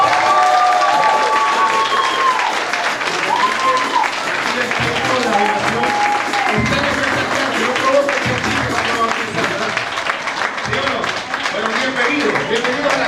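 Church congregation applauding during a Sunday sermon service, a loud dense wash of clapping and cheering that carries on steadily throughout, with voices and shouts mixed into the crowd noise.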